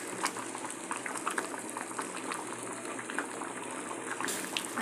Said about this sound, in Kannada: ಓಕೆ ನೋಡಿ ಫ್ರೆಂಡ್, ಕುದೀತಾ ಇದೆ